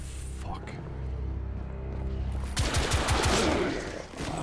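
Gunfire in the video game The Order: 1886, a rapid burst of loud shots arriving after a couple of seconds of low rumbling game ambience, with players talking over it.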